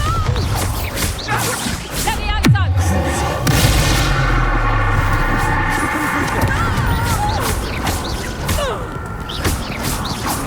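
A Bombarda blasting spell from Hogwarts Legacy explodes with a sharp crack and heavy boom, then a long rumbling tail beneath game music and battle noise, with voices talking over parts of it.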